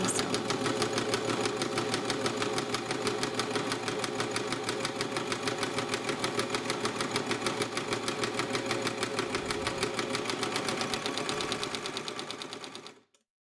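A serger sewing machine running steadily through folded fabric while its knife trims the excess edge: a fast, even mechanical chatter heard up close for several seconds before it abruptly stops.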